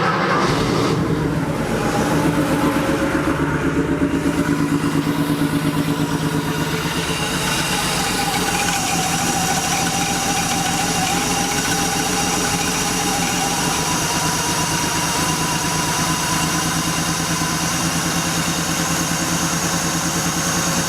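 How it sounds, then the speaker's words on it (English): Porsche 3.2 Carrera flat-six engine catching and settling into a steady idle on a cold day, a continuous close mechanical hum with fine ticking texture, no voices. "Let's go ahead and start the car and see where it is."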